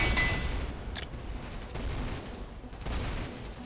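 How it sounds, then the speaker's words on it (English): Rapid bursts of hand cannon gunfire in Synthetik 2, sharp shots scattered across the clip amid dense combat noise. "Hand cannon is doing its work."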